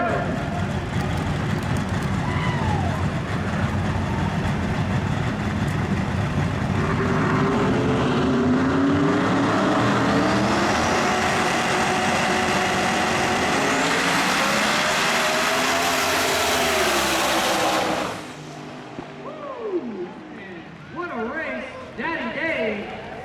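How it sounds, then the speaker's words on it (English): Loud drag race car engines roar and rise in pitch as the cars accelerate hard at a no-prep race, with an announcer talking over them, then the roar cuts off and fades. "Both cars made a clean hit. Nice drag race right there."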